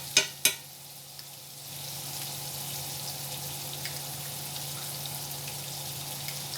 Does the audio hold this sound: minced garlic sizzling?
yes